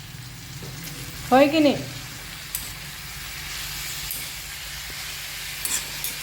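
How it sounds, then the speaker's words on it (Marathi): Leafy greens cook in an old iron wok with a soft, steady sizzle and hiss. A short spoken question rises briefly over the frying. "लोखंडाच्या कढईमध्ये पालेभाजी करतोय आपण"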